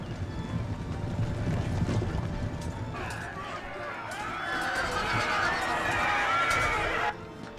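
Cavalry horses galloping in the video game Empire: Total War, a dense rumble of hoofbeats and battle noise with clattering mechanisms, fairly loud and continuous with a shift in texture midway.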